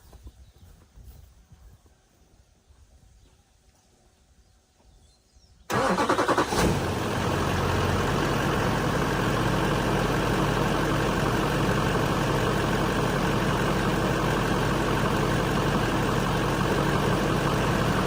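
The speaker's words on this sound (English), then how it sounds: "Well, the truck starts." A Duramax diesel truck engine cranks and catches after a quiet stretch following fuel bleeding, then settles into a loud, steady idle that runs on without a break.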